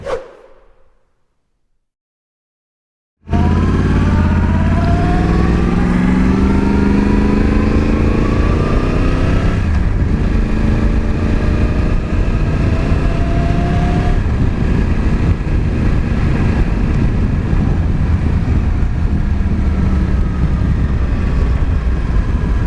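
A Yamaha R1 sport motorcycle ridden on the road, a loud, continuous engine roar rising and falling through gear changes amid strong wind rush, after a brief quiet start, with no talk.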